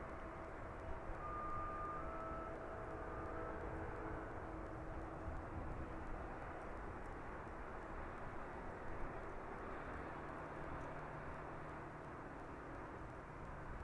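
An aircraft departing East Midlands Airport in the evening, turning south, gives a faint, steady distant engine roar that drones evenly with no talk.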